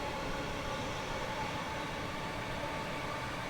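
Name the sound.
Class 313 electric train motor sound in Train Simulator video game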